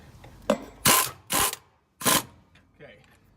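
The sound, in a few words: ratchet tightening a nut on a trac bar bracket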